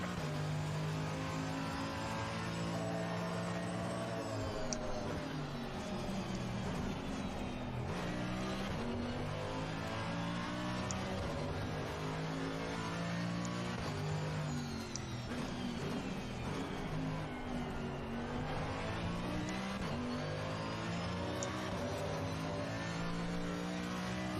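A race car engine on a lap drones loudly and continuously, revving up and down through gear changes with rising and falling pitch sweeps and faint tire noise.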